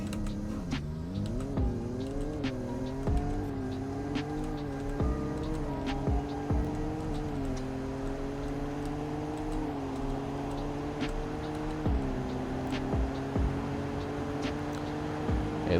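A car in the video game Greenville runs a speed test, its engine note climbing through repeated upshifts with steady droning revs and brief dips between gears, continuous and fairly close.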